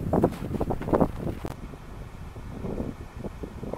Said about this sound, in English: welcome to a windy and blustery day in the tundra of Minnesota